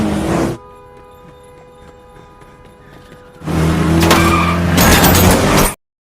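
Cars in a gangster chase scene from a film: a loud vehicle burst cuts off abruptly into a quiet hum, then engines and road noise surge back in a long roaring pass before ending sharply.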